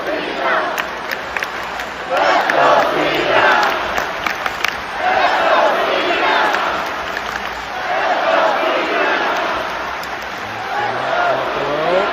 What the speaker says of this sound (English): And the crowd's fired up here for Dirty.